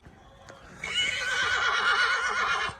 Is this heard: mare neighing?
yes